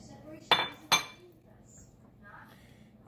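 Pineapple added to a casserole dish gives two sharp clinks of utensil or can against the dish about half a second apart, followed by quiet handling in a calm kitchen.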